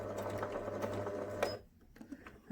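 Sewing machine making a short burst of reverse stitches on a memory bear, a close steady whirring run that stops abruptly after about a second and a half, leaving quiet handling sounds.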